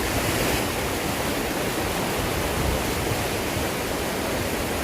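Water of the Pacalat River in Mangatarem, Pangasinan, rushing in a dense, continuous broadband roar, loud and close, with no voices over it.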